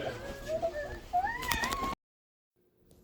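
Children cry and scream in a busy thrift store, shrill wavering wails over background chatter for about two seconds before cutting to near silence.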